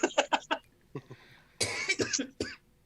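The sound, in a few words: cough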